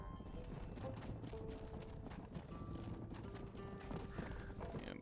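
Horses gallop with steady clip-clop hoofbeats while cattle are herded in the Red Dead Redemption video game, a dense, continuous clatter of hooves with an occasional whinny, loud and close throughout.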